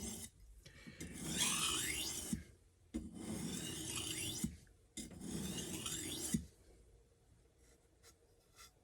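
A knife blade is drawn across a whetstone on its reverse side in three long, rasping grinding strokes separated by short pauses, close and fairly quiet, followed by faint handling.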